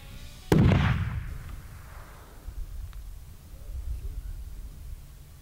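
A single rifle shot fired at a bull elk during a Colorado hunt cracks out sharply, then rolls away in a long fading echo across open country, followed by quiet outdoor ambience.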